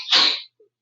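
A child in a third-grade classroom lets out one sharp, hissing sneeze at close range, followed by a faint murmur.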